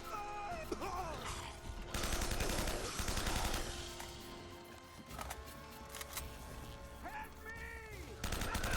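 Rapid gunfire in the action game Uncharted: Drake's Fortune: loud, dense bursts of automatic shots and scattered single cracks, with a voice talking over the shooting.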